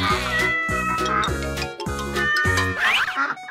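A cat meows repeatedly in loud, close, drawn-out calls with a wavering pitch, sometimes rising into a caterwaul, one after another with only brief gaps and no talking.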